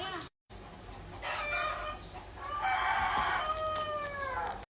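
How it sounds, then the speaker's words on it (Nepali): Roosters kept at a home crow several times in succession, the calls loud and fairly close, one long crow following another after a brief silence at the start, with faint background ambience. "हाम्रो घरमा चाहिँ भालेहरू पनि छन्।"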